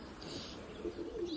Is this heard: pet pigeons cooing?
yes